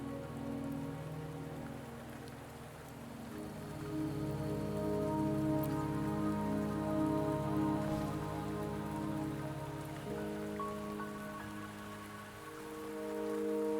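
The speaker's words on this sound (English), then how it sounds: "Don't worry, the rain won't last much longer." Steady rain falls and patters on surfaces in the video game Wuthering Waves, a constant wash of drops that swells in the middle, with a soft musical score underneath.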